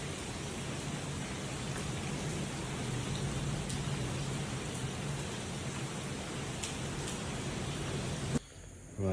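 Rain falls steadily at a Sri Lankan hotel, with drops hitting the pool. A soft, even hiss with faint patters of drops continues until it cuts off abruptly near the end.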